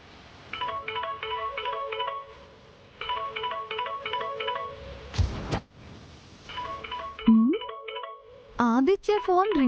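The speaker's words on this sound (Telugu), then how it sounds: "Phone ring అవుతున్నట్టుంది. ఎందుకు లిఫ్ట్ చేయట్లేడు?" A telephone ringing in repeated electronic trilling bursts, each a rapid pattern of warbling tones separated by pauses, interrupted by a loud whoosh and followed by wavering electronic tones and a voice at the end.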